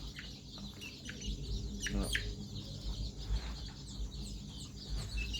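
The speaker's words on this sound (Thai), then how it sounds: "ตัวนี้เป็นไก่ไข่นะครับ เป็นไก่ไข่" A laying hen clucks softly in short, irregular calls mixed with chirps from other birds, faint and near, over low background rumble.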